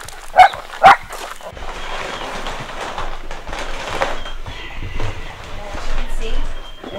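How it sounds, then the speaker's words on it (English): Dogs bark twice in quick succession at a farm, two sharp nearby barks at the start, followed by faint background noise and distant activity. "there's always a group of dogs around"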